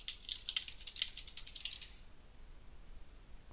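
Fingers type a comment on a computer keyboard, a quick burst of light clicking keystrokes for about two seconds before fading to near silence, close and quiet with no talking.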